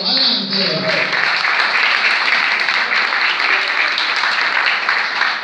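Strong, steady audience applause for a musician at an awards ceremony, the Premio Podio 2018, a dense wash of clapping that stays loud throughout, with a brief voice at the very start.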